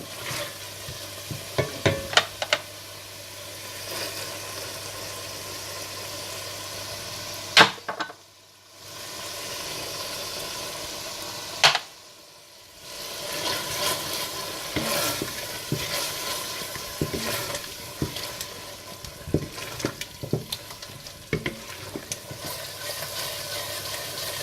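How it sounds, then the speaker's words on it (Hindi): Steady sizzling of tomatoes, yogurt and dal masala frying in a pan, with repeated scraping and stirring clatter, close and continuous; a brief lull midway before the frying resumes. "इसमें दही और दाल मसाला डालकर थोड़ा भून लें"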